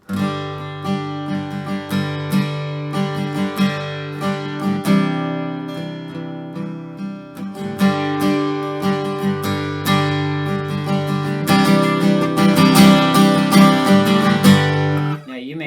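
Guitar strummed steadily and energetically, full chords ringing in a driving rhythm, close and loud with no voices.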